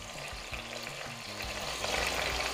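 Beets frying in 50 ml of hot vegetable oil in a sauté pan for Ukrainian borscht give a steady, close sizzle and crackle, with soft stirring thumps underneath and no talking.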